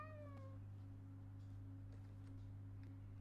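A cat in the Minecraft Life in the Woods modpack gives one short, faint meow at the start over a steady low hum from the game.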